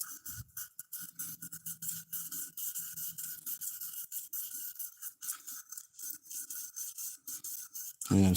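Opal gemstones being hand-sanded on 1,000 grit abrasive, a steady rasping scrub in quick repeated strokes, close and moderately loud, with a brief louder bump at the very end.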